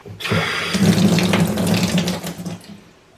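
Water gushing from a tap during a plumber's test of an old Ford shutoff valve, a loud close rush that starts abruptly, holds for over two seconds, then tapers off.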